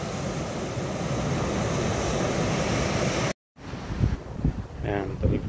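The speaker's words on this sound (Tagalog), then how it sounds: "Lakas pa rin ng alon." Strong surf at low tide on a beach at Agno, Pangasinan, a steady roaring wash of waves that cuts out briefly, then returns with wind gusts and people talking.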